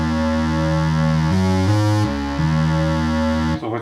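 A Behringer Wasp synthesizer's first oscillator plays two slightly detuned waveforms, giving a thick, buzzy sustained tone that steps through a few pitch changes, loud and continuous before cutting off.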